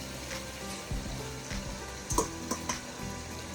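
Pomfret fish pieces being laid one by one into sizzling spiced masala in a pan, a steady frying hiss with a few sharper splashy crackles as each piece goes in, close and without talk.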